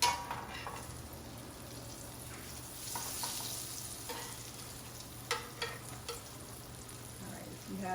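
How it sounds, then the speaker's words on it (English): Panelle chickpea fritters fry in oil with a steady, even sizzle, close and moderately loud, with a few soft clicks of a utensil toward the end. "these have been frying for about 3 minutes on one side"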